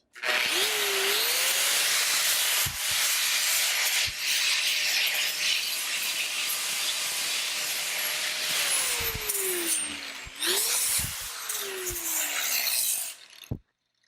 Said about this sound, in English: Now we're going to use what we call a flap disc.